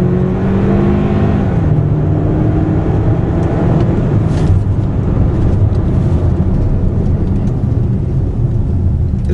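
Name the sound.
2013 Hyundai Santa Fe Sport 2.0 turbo accelerating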